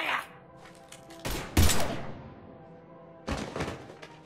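Gunfire in the sci-fi shooter Mass Effect 3 during a cutscene: a few separate heavy blasts with ringing decays, spaced apart, against a quiet background with faint voices.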